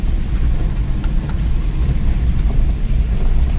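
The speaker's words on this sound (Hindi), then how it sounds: "काफ़ी बारिश हो रही है और ठंड बहुत बढ़ चुकी है" Heavy rain pours down near an army gate in Jammu on a cold day, a loud, steady broadband roar with no let-up and no voices.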